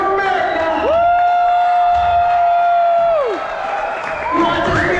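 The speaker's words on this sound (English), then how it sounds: "Give yourself a round of applause." Crowd at a candy bar bingo game at Moose Hillock campground in New Hampshire breaks into applause and cheers, a steady roar of clapping with a loud whistle riding over it, and shouts near the end.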